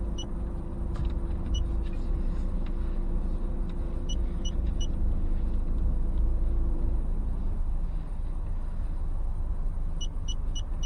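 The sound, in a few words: car reversing out of a parking bay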